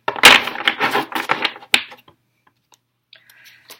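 Papery rustling and quick crisp snaps of Wisdom of the Oracle cards being shuffled, close and busy, then a short settling tap and near silence with faint ticks.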